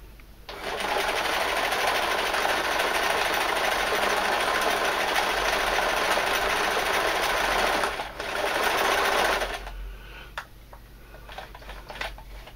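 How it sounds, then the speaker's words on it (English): A sewing machine runs steadily for about eight seconds, stitching a fabric trouser belt up and down, loud and close with a brief dip before it stops and a few faint clicks follow. "So I'm going to sew it up and down a few times."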